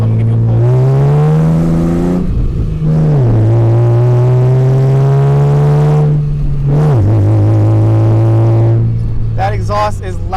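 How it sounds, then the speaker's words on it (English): A loud 1998 Ford Mustang exhaust revs hard over and over, droning and rising in pitch with each pull, close and continuous. "The first thing you'll hear is how loud this exhaust is."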